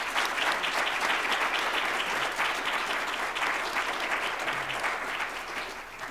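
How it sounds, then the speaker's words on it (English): An audience at a law school Martin Luther King Jr. Day commemoration gives a sustained round of applause, dense steady clapping filling the room for several seconds before tapering slightly at the end. "Can we give them a round of applause?"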